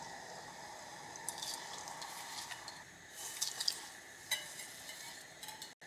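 Rice and lentils tipped into a pot of boiling water for sweet pongal, a soft wet splash and squishing stir over faint bubbling, quiet and close.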